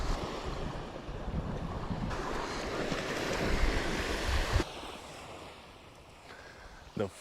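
Ocean waves wash onto a fishing beach while steady wind buffets the microphone, making a continuous loud roar of surf and gusts that eases toward the end.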